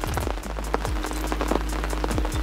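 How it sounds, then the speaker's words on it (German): Heavy rain pours steadily during a carp fishing session, a dense continuous patter of drops on surfaces close by with a few louder individual hits, no talking. "Und es geht jetzt schon sehr ab mit dem Regen."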